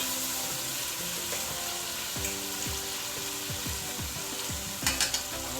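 Brown stew fish seasoned in a pot sizzles steadily, with a constant bright frying hiss under repeated scraping stirs from a utensil and a few sharper clinks near the end, close and with no talking.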